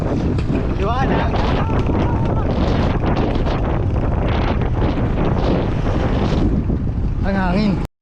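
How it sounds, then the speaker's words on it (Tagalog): Loud wind buffets the microphone in a constant rumbling roar during a fixie bike climb in Tagaytay, with brief voices near the start and end. "Ang hangin."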